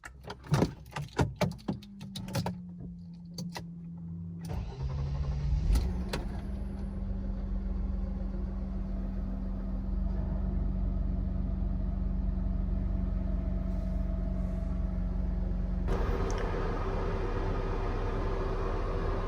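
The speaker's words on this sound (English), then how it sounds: "engine is at operating temperature" Mercedes-Benz W124 engine idling at operating temperature after an oil change to full synthetic 10W40 oil, a steady low drone that follows a few early clicks and a brief rise, with a slight shift late on and no talking.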